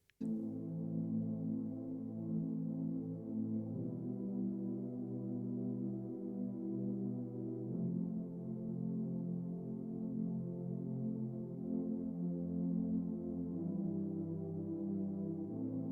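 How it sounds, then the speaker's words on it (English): Soft, sustained synth pad chords from a Serum pad preset layered over piano swell and shift slowly, changing harmony a few times over a steady, mellow drone. "in this case, by an instance of Serum on a pad preset"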